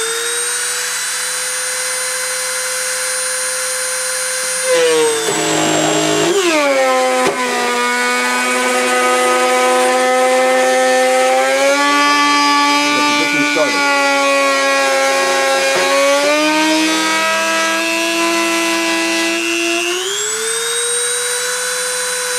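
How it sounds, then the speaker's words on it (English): A machine spindle spins up and runs steadily during a deposition process, giving a loud, continuous high whine with shifting pitch that rises and falls across the run, with speech-like tonal variation but no clear words. "I'm going to start the spindle and start the deposition."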